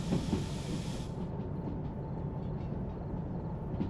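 Steady low rumble of a locomotive train slowing down in the Derail Valley railway game, with a brief hiss that stops after about a second, then continuous rolling rail noise with a faint tonal hum.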